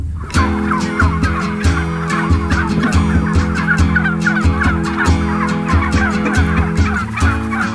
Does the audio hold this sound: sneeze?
no